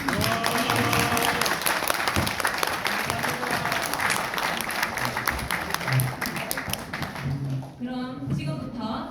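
An audience at an invited lecture bursts into sustained applause, a dense crowd of clapping hands that holds steady before thinning out, with some voices mixed in.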